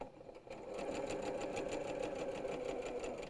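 A sewing machine stitches quilt panel pieces in a fast, even stream of mechanical pulses after a short pause at the start. The needle's rapid rhythmic clatter is close and fairly quiet, with no voices.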